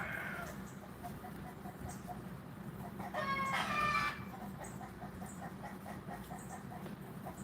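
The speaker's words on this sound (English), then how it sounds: "Now that right there is the chickens. The hens are making that noise." Backyard hens cluck and cackle in the garden after laying eggs, a soft, steady chorus over rustling ambience with a brief louder burst midway.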